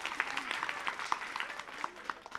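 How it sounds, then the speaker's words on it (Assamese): An audience claps at a lively stage event, a brief, moderate patter of hands heard from a short distance. "হাত চাপৰি হৈ যাব লাগে সকলোৱে"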